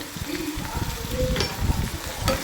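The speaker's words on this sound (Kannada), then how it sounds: "ಇವಾಗ ಟೊಮೊಟೊ ಹಾಕ್ಕೊಳ್ತಾ ಇದ್ದೀನಿ" Chopped tomatoes with salt and turmeric sizzling in a hot pan, a steady crackling fry with scraping stirs and a few sharper clinks of a spoon.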